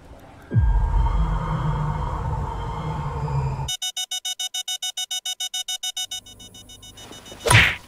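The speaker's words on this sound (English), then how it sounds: "Her face is her alarm clock." An alarm clock rings in an animated episode: a low rumble and hum give way to a loud, rapid electronic beeping pulse that repeats evenly for a few seconds, then cuts to a quieter tone and ends in a sharp thump.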